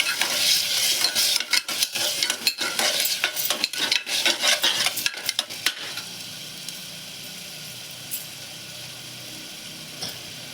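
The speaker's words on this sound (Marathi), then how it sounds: "आलं, लसूण आणि मिरचीची पेस्ट घातली त्याच्यानंतर त्याच्यात त्याला सुद्धा असं परतून घ्यायचं" A ginger, garlic and green chili paste sautés in a pan for mixed vegetable sabzi, loud close sizzling with rapid stirring scrapes for about six seconds, then a quieter steady sizzle with a couple of light knocks.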